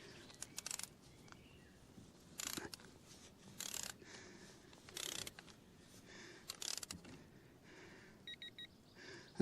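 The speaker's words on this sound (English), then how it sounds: "Now we need to tighten this to 10 Newton meters of torque" A torque wrench is being ratcheted to tighten the front sprocket screw on a Benelli TRK 502X motorcycle, giving short bursts of fast mechanical clicking repeated about six times, quiet and close, with pauses between.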